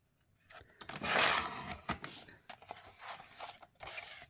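Paper for a calendar page is cut and trimmed up close in a quiet room, with a few short scraping and snipping strokes and one louder rasping pass near the start.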